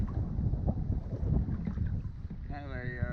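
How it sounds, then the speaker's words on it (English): Steady wind buffets a boat on open water near Drummond Island, a continuous low rumble of gusts across the microphone with faint water wash; a brief higher tonal whine enters near the end. "I'm sure you probably hear a little bit of the wind"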